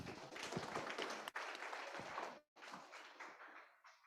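A seminar audience at an Indonesian government workshop claps for the speaker, giving a faint, steady patter of applause that runs for about four seconds with a brief dip partway through.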